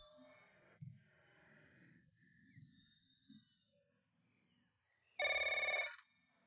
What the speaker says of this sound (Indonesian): Xiao Wang, aku akan menjawab telepon, oke